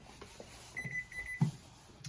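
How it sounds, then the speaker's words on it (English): A kitchen timer beeps while berry muffins bake, a faint thin series of rapid high electronic beeps lasting under a second, set against quiet room noise. "Timer's going off again."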